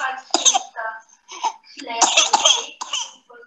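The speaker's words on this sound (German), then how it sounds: "Ich spiele Ihnen das Video dann vielleicht noch einmal vor und Sie hören den Husten." An infant of a few months coughing during a children's medical emergency, with several short, harsh bursts separated by pauses, clearly audible and close.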